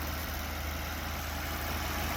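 A 2009 BMW 750Li F01 engine idles in a steady, even hum with a constant low drone and faint high whine, close and unbroken, with no voices.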